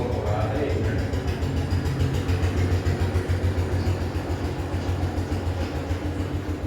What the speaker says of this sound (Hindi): ट्रैक्टर जा रहा, थोड़ा सा शोर हो रहा है